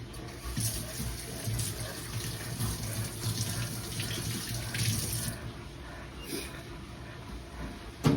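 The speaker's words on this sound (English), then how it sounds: "My dirty hands. Let me wash them." Hands washed under a running tap after handling a Portulacaria afra cutting, steady splashing water close by with rubbing variations, ending with a brief knock, no talk.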